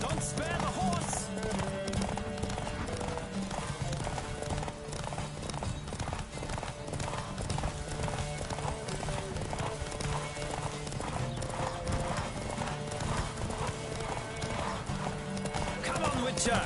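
A horse gallops hard in a race in The Witcher 3 video game, rapid rhythmic hoofbeats pounding steadily throughout with occasional whinnies, under voices and game sound.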